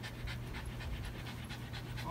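A happy puppy pants steadily and close by during a tick check, quick rhythmic breaths repeating without pause and no talking over them.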